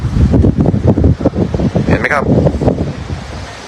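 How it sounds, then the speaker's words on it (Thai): Strong gusty storm wind buffeting loudly against the microphone on a southern Thai coast, with the rolling rush of sea waves beneath and a voice faintly underneath. "ถ้าเกิดว่าทะเลมีคลื่นแบบนี้นะครับ แสดงว่า ลมแรงนะครับนะครับ"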